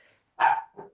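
A dog gives one loud, close bark followed by a shorter, softer second bark.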